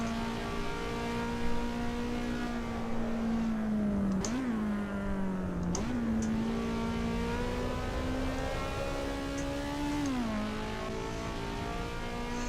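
A 4-cylinder race car engine in Assetto Corsa EVO holds a high, steady drone near 9,000 RPM, with brief dips and quick re-rises at gear shifts, loud and alone.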